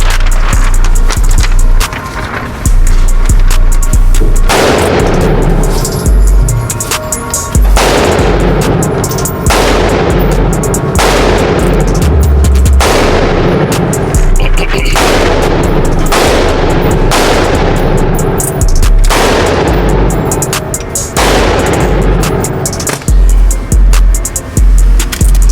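Handgun fire on a range during weak-hand, strong-hand and double-tap drills, likely including a Glock 20 in 10mm: loud, sharp shots repeat throughout, some in quick pairs, with a steady outdoor background between them.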